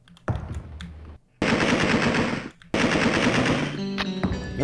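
Automatic gunfire in the video game Alone in the Dark 2: a short burst, then two long sustained loud volleys of rapid shots with brief gaps between them, no speech.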